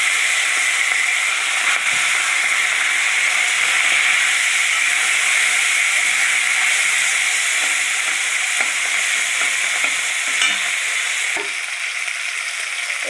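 Mustard seeds crackle and sizzle in hot oil in a pan for fish, a loud, dense, continuous frying hiss with scattered pops running unbroken throughout.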